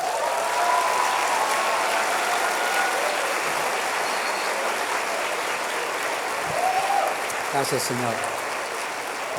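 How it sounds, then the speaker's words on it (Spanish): A church congregation claps in steady, full applause that fills the room, and someone speaks briefly over it near the end. "Le das un aplauso al Señor."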